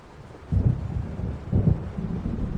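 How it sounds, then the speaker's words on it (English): Thunder from an approaching storm rolls in the video game Alan Wake, two deep rumbling swells that rise and fade, close and heavy, with no voices. "It seems there's a storm coming."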